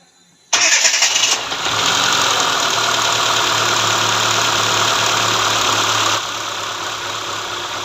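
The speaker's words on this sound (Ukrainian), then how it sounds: "зараз от, е, запустимо двигун, мотор прогрітий" A warmed-up Daewoo Sens engine cranks briefly and catches, then settles into a steady, loud, close idle that drops slightly in level near the end; the car has a hunting idle and high fuel consumption.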